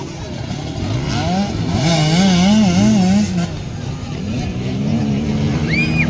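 A racing motorcycle engine revs loud and close, its pitch wavering and climbing through quick throttle changes, with a voice talking over it.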